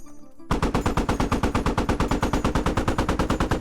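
A Browning M2 machine gun on a PARS 3 remote weapon station fires in the Squad video game: after a brief quiet moment, a loud, rapid, steady stream of shots hammers on without pause.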